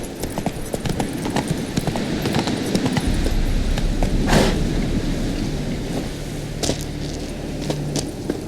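Roach, the horse in the video game The Witcher 3, gallops in steady rhythmic hoofbeats over a dense game soundscape with a low rumble, loud and continuous throughout.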